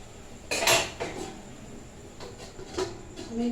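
A lid goes onto a cooking pot of hilsa fish curry with a clear metallic clank, followed by softer scrapes and light knocks of cookware over a low simmering background.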